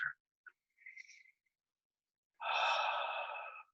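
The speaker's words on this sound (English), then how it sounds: "take a 4th deep breath" A deep breath: a short sniff is followed by a drawn-out, breathy exhale of about a second, heard close and fairly soft, with silence in between and no speech.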